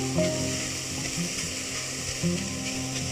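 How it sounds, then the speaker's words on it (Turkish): Two carrots stirred as they fry in olive oil with a little butter and onion for chicken soup, a steady close sizzle with faint scraping and clicking of the stirring, no talking. "Zeytinyağında şöyle iki havucu karıştırıyorum güzel pişmesi için"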